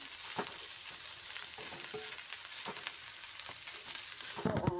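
Greens thoran with plenty of grated coconut stirred in a pan, giving a quiet sizzle with repeated soft scraping strokes, ending in a louder clatter.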